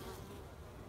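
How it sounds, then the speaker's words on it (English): Honey bees at a hive entrance, forager bees returning with full pollen baskets near the end of the foraging day, producing a faint, continuous close buzzing drone with no talk over it. "the forager bees have pollen baskets full"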